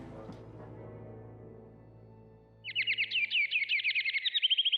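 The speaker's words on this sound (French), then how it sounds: "le chant matinal des oiseaux" Morning birdsong breaks out after a low, droning musical passage: a run of rapid, high chirps and trills repeating in quick succession, moderately loud and close, continuing to the end.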